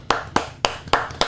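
A few people clap for a podcast guest, five sharp separate claps in an uneven rhythm, close and fairly loud with no talk.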